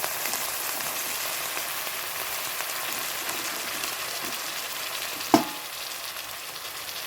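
Spices frying in a pan with a splash of water added, a dense, even crackling sizzle like rain, broken by one sharp knock near the end.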